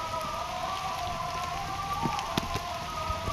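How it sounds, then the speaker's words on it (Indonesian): Light drizzle patters steadily on a surface, with scattered drops ticking through a constant hiss and a faint tonal hum underneath. "Udah mulai hujan guys"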